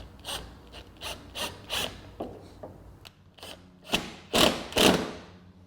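Screws are driven into wooden boat floor timbers to anchor them temporarily, giving a series of short grinding, ratcheting bursts with rubbing wood noises between them, up close and with no talking.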